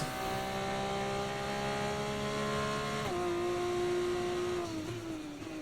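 An F1 racing car in the F1 24 video game holds a loud, steady high engine whine throughout, dropping pitch briefly twice as it shifts and changes speed, heard alone without voices.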